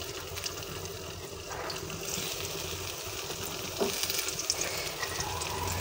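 Kakrol (spiny gourd) frying in hot oil in a kadai, a steady low hiss and crackle that holds throughout, fairly faint and without talk.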